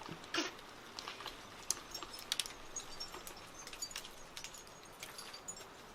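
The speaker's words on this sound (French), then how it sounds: "la pluie, elle est repartie de plus belle, là" Rain falling outside on a cold December day, a steady soft patter with scattered sharper drips and taps, moderately faint and close, with no talk over it.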